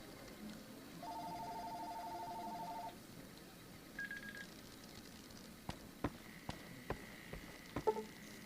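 A phone rings faintly in short electronic tones, one long steady ring followed by a brief second one, among quiet ambient noise and scattered soft ticks.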